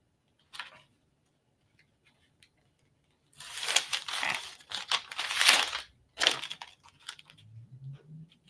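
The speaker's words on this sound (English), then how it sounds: "we're going to take off the backing of our peel and stick" Backing is peeled off a peel and stick sheet, heard as close crinkling, crackling plastic and paper tearing in short bursts after a quiet start.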